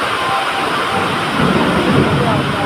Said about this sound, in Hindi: यह देखा भैया बहुत जोर बारिश होती है